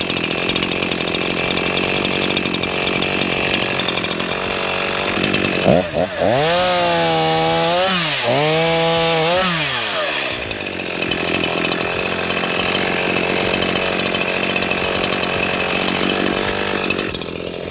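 An ECHO CS 4910 gas chainsaw runs loudly, revving up and down through a couple of strong cutting passes as it bucks a felled tree log, then settles back to a steady idle.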